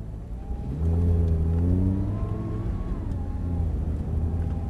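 A car pulls away slowly on a race circuit, its engine note rising smoothly in a moderate rev as it gathers speed, then settling into a steady hum close by.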